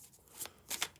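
Tarot cards being shuffled, quiet and close: a few short riffling bursts with soft pauses between them.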